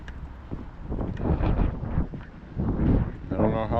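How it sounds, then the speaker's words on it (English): Gusty wind blows during an outdoor walk as rain approaches, rising and falling in rough, buffeting surges across the microphone, with a voice faintly present underneath. "It's getting a little windy."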